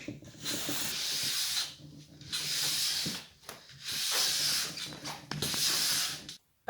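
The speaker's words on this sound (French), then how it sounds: "je vais utiliser ma brosse en laiton une dizaine de coups pour bien aplanir la" A brass brush scrubs wax across a ski base in long, rasping strokes, four broad hissing sweeps close up with short pauses between them and no voices.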